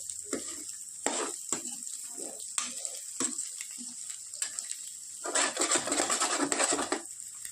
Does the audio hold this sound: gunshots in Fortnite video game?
no